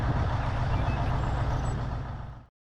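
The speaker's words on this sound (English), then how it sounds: "This is a crane truck," A crane truck gives a loud, close, broadband rush of engine and air-brake hiss that holds steady for over two seconds, then fades and stops.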